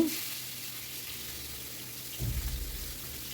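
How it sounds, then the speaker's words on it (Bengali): Steady hiss of catla fish frying in hot oil on a gas stove at high flame, with a low rumble of the stove underneath. "এপিট ওপিট করে আমি কাতলা মাছগুলোকে ভালো করে ভেজে নিচ্ছি"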